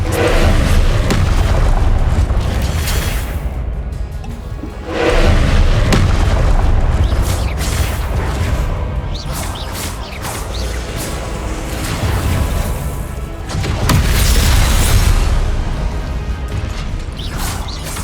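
Repeated Confringo fire-spell explosions in the Hogwarts Legacy game, deep booming blasts in loud bursts with rumbling tails, swelling again around five and fourteen seconds amid continuous combat noise.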